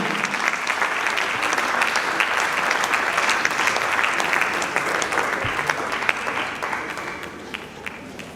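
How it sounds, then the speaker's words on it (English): An audience at a language conference breaks into sustained applause for the Commissioner, a steady, dense wash of many hands clapping that holds evenly for over eight seconds with a faint murmur of voices underneath. "Please, a round of applause for the Commissioner."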